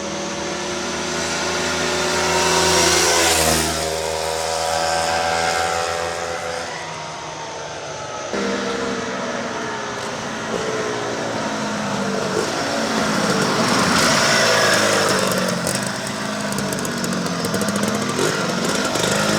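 A mint-condition 1973 Penton 175 Jackpiner motorcycle engine runs loud and close, its steady buzzing drone rising and falling in revs without a break.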